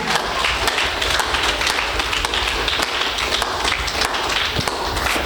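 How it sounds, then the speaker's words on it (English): A church congregation claps hands in praise during a healing service, dense continuous clapping filling the room at a steady loud level throughout. "Oh, clap your hands for Jesus."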